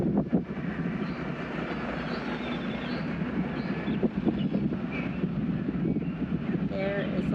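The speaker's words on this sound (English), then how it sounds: "it is a beautiful view up here, but it is windy." Strong wind roars across the open top of Hope Town Lighthouse in the Abacos, a steady, dense rush of noise with buffeting gusts filling the whole stretch.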